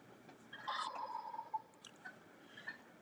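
A wild tom turkey gobbles once in a rattling burst at a modest distance outdoors, followed by a few softer calls, with no talk over it.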